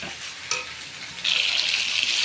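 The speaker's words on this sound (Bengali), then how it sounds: "ছাদে চাষ করা হয়েছিল যে শাক সেই শাক ভাজা হচ্ছে" Home-grown leafy greens fry in a pan, a bright, close sizzle that swells louder partway through after a stirring scrape, continuing steadily to the end with no talking.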